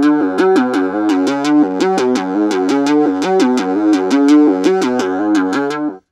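Looping modular synth sequence played through a Medic Modules Voice Box eurorack loudspeaker module, a steady bright pulsing pattern of repeated notes with sharp rhythmic attacks and a slightly driven, distorted speaker tone, continuous and loud throughout.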